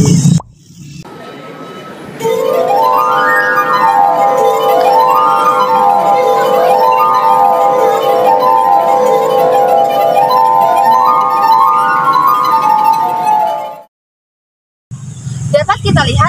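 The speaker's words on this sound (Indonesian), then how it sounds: "gelas yang disentuh menghasilkan bunyi dan bunyi yang dihasilkan juga berbeda-beda" Glass drinking glasses are rubbed to ring in a resonance experiment, giving sustained clear tones that rise and fall in a wavering pattern for about twelve seconds before stopping abruptly.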